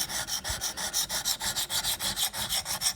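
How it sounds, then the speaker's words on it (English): Knife blade drawn over Wicked Edge diamond sharpening stones, a steady back-and-forth rasping at about five strokes per second, close and fairly loud with no voices. "I really like sharpening with diamonds."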